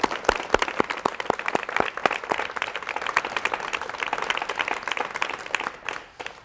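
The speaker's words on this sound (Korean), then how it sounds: "박수로 맞이해 주십시오." A studio audience applauds to welcome a guest onto a 1985 Korean TV talk show: sharp close claps at first, then a fuller wash of clapping that fades out at the end.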